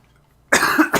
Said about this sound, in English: I feel like I could just cough again.